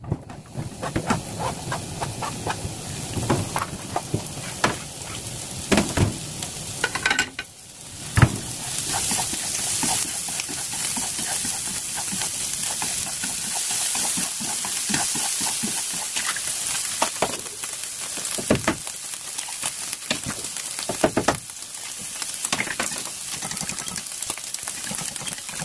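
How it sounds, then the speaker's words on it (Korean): Ham and onion frying in a pan for an egg pizza, with a constant close sizzle and crackle and occasional scraping stirs, continuing alone throughout. "햄과 양파를 볶아서 한번"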